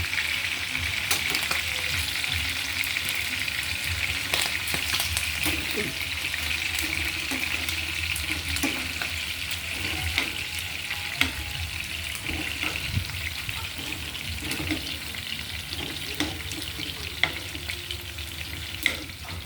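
Eel frying in a pan until golden brown, a steady close sizzle with occasional stirring clatter and a splash of water, continuing throughout.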